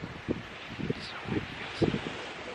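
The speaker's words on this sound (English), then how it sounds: "So it's really windy outside." Wind blows outside in soft, uneven gusts, rustling against the microphone in a continuous close hiss with several brief surges.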